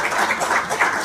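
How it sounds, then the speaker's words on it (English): A convention hall audience claps in a continuous dense patter of many hands, loud and steady throughout with no voices standing out. "Let's continue clapping."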